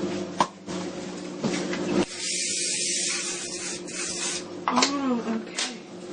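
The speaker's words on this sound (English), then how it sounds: "Now I'm actually gonna spray it with the oil." Oil sprayed from a spray can onto a vegetarian lasagne in a home kitchen, a sustained hiss of about two seconds between brief rustles, with someone talking softly around it.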